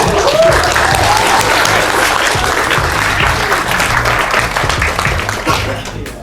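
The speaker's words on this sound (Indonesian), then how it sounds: "mari sambut dengan tepuk tangan meriah Mas Aji Satoso." An audience at a mindfulness and mental-health talk gives a speaker a lively welcome, with dense, steady applause filling the room and fading slightly at the end.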